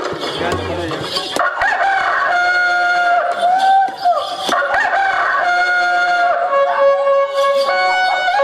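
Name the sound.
performer imitating a rooster crowing in a stage play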